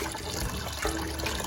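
Water sloshes and splashes steadily as rice peas are washed by hand in a pot. The sound is close and continuous, with no talking.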